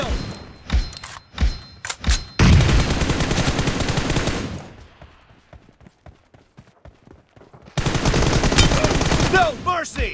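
M4 rifle fire in a team deathmatch video game: several single shots open, then long loud automatic bursts, a quieter gap with faint rapid taps, and another sustained burst near the end, close and forceful.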